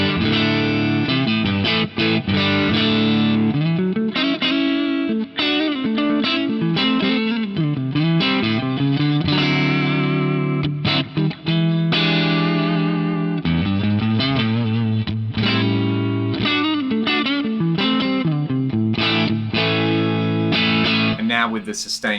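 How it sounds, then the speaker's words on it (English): Electric guitar on the neck pickup through an Axe-Fx with the JPIIC sustainer compressor, playing a continuous run of melodic notes, heavily compressed with long sustain, loud and steady throughout. "we'll hear it clean, and then with the JPIIC sustainer kicked in"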